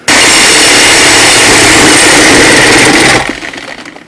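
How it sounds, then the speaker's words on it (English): A Sawzall reciprocating saw cuts through a Land Rover brake pedal, a loud steady buzzing rasp for about three seconds before it stops and trails off, with no talking. "I'm going to go ahead and get my Sawzall out and start to cut."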